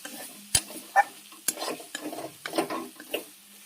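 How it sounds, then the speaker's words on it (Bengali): A ginger, garlic and onion masala paste with salt and turmeric fries in a pan, a soft sizzle broken by sharp scraping and clinking strokes of a stirring spatula at an irregular rhythm. "মশলা ভাজা হয়ে গেছে দেখো।"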